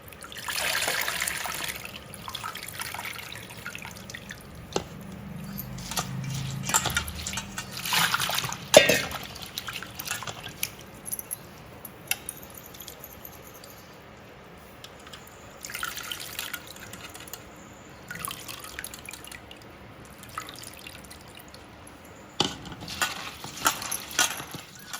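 Dal soaking in water being washed by hand to strip off the husks, with irregular splashes, trickles and drips close by, louder bursts of sloshing between quieter stretches.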